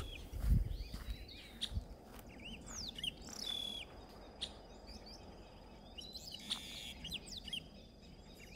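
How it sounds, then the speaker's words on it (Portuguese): Birds chirp and tweet in scattered short calls over a soft outdoor background, moderately distant, with no talking. "Só se ouve pássaros"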